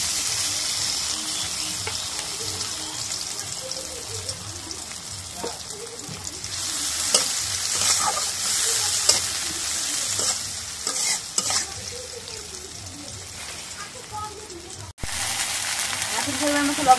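Onions fry in oil in a very hot wok, a continuous sizzle with frequent scraping stirs, a spoon tapping the pan and a brief louder burst near the end.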